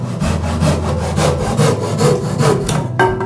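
A handsaw cuts through cypress floor joists in steady back-and-forth strokes, about three per second, close and loud, with no talking.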